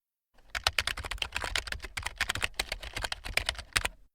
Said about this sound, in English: The doctor types up her notes on the computer.